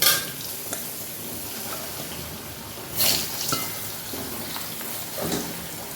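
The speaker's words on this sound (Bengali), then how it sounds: "এবার আমি ওই তেলে মাছের লম্বা লম্বা করে কেটে রাখা আলুগুলো ছেড়ে দেব।" Long-cut potato slices dropped into hot oil left from frying fish, sizzling steadily in a pan with a few louder bursts of spitting and stirring, no voices over it.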